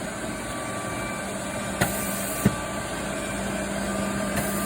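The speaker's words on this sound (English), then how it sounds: "And we're going to go ahead and take the vacuum." A shop vacuum drawing loose powder from around a fragile printed model inside a 3DS 460 powder printer, a steady broadband whoosh with a couple of brief knocks from the nozzle.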